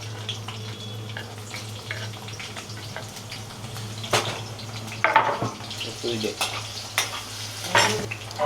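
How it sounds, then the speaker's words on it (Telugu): Green chilies frying in oil in a pan in a village kitchen, a low steady sizzle over a hum with scattered stirring scrapes and louder bursts of spattering toward the end. "ఇప్పుడు ఇంట్లో పచ్చిమిరపకాయలు వేసుకుందాం."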